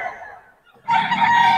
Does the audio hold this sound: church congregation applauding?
no